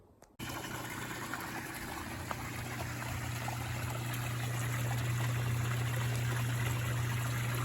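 Water runs steadily into a Jacuzzi hot tub, a soft, continuous trickling stream with a low hum underneath, starting abruptly after a brief quiet moment and holding level throughout, with no talking.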